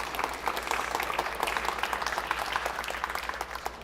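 A large crowd applauds steadily at the final of a Puerto Rico pool tournament, with dense sustained clapping throughout and no voice on top.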